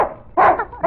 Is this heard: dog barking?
yes